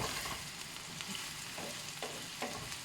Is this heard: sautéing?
yes